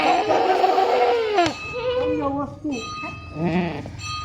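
A Kathiawadi goat bleats loudly and wavering, then several shorter bleats follow amid a busy goat market, with people talking in the background.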